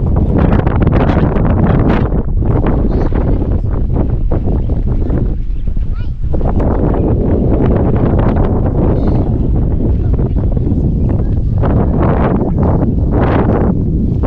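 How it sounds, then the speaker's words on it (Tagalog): Wind blasts steadily into the microphone, a loud rumbling roar that barely lets up for the whole stretch. "Hangin."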